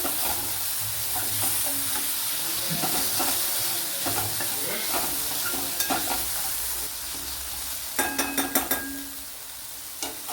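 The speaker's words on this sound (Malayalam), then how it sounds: "ഉള്ളി കൊച്ചുള്ളിയൊക്കെ വഴണ്ടിട്ടുണ്ട് അതിലേക്ക് വലിയൊരു സവാള ചേർത്ത് കൊടുക്കുക" Onions and tomatoes with shallots fry in a pan with a steady hiss and sizzle, broken by scattered scraping stirs and a burst of spatula clicks toward the end, with no talking.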